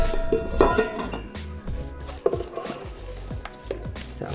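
Salad ingredients with ranch, chili pepper and Dijon mustard being tossed in a bowl, giving scattered clinks and knocks of utensils against the dish in an irregular rhythm, close by with no talk.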